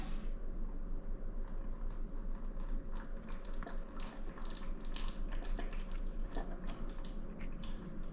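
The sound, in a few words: fluid draining from a 2000 Honda Civic Si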